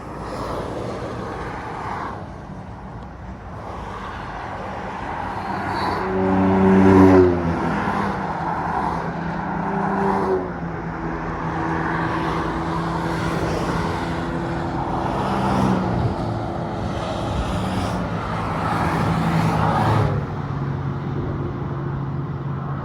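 Honda NSX sports cars drive past on the A28 near Le Mans during the Le Mans Classic, with a steady roar of traffic and several engine notes rising and fading as cars sweep by one after another.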